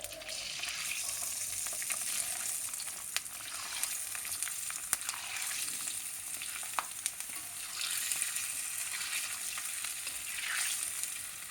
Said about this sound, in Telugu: చూడండి నూనెలో వేయిస్తున్నాను వడియాలు.